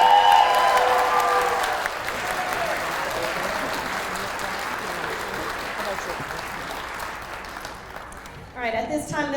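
Audience applauding kindergarten students at a school graduation ceremony, a loud burst of clapping that gradually thins and fades, with a few voices and cheers mixed in near the end.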